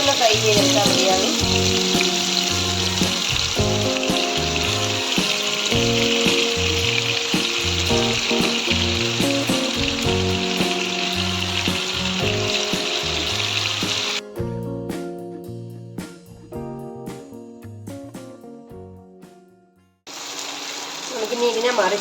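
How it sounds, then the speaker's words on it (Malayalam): Fish pieces for a Kerala-style fish biryani shallow-fry in hot oil in a pan, giving a steady, loud sizzle that runs continuously over background music and breaks off briefly near the end. "ഈ എണ്ണയിൽ തന്നെ നമ്മളിനി മീൻ ഇടയാണ്. മീനിനെയും നമുക്ക് വറുത്ത് കോരാം."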